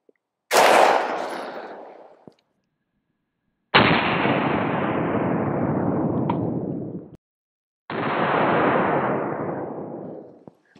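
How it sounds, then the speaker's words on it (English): Rifle shots from a BCM Recce 18 firing 45 grain .223 Remington jacketed hollow point rounds into roofing shingles: three loud, sharp cracks, each followed by a long rumbling echo that fades away, with silence between them. "We have some 45 grain 223 Remington coming out of my BCM Recce 18."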